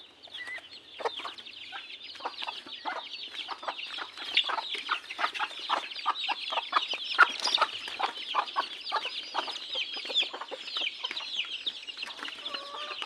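A mother hen with her newly hatched chicks, a mixed brood, gives soft repeated clucks while the chicks peep in a dense, steady chatter of high chirps close by, continuous throughout.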